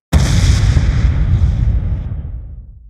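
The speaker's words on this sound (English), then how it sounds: "And at last, the explosion hits at the end." A single sharp, heavy video game weapon explosion effect bursts in suddenly after a brief silence, then rumbles and fades away over a couple of seconds.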